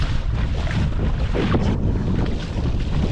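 Strong wind buffets the microphone on open sea while sea bass fishing from a small boat, a continuous loud roar with waves and hull noise beneath, no voices.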